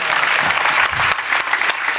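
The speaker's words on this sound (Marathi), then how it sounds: "सगळ्यांनी टाळ्या वाजवा" A crowd at a Hindu devotional hari-naam week gathering in Girgaon village claps together, a dense, loud burst of applause sustained through the moment with no talking.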